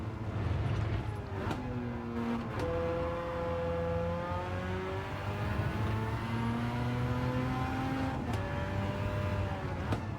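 A car lapping a track in Gran Turismo, its engine whine steadily rising and dropping through gear changes, continuous and close with tyre and road noise underneath.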